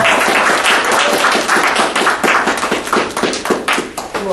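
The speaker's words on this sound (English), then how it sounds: "Let's give Robbie, Ms. Belt, a round of applause" Close, loud applause from an audience at an entrepreneur seminar, brisk uneven claps in a busy wash with a few heavier individual smacks and some voices underneath.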